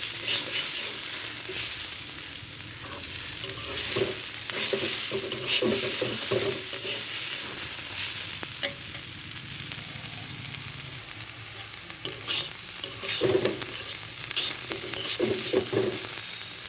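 Sliced potatoes and onion fry in a pan, hissing and sizzling steadily while a spatula scrapes and stirs them in irregular strokes, close by with no talking.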